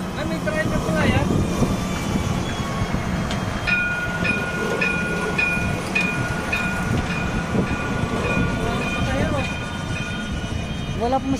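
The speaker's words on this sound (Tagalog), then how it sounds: "May tren na pala yan." A train passes nearby with a steady rumbling roll and faint rhythmic clatter, a sustained horn-like tone sounding intermittently, while people talk over it throughout.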